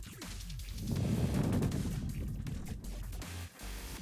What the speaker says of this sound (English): That sound was something flying at high speed following by impact.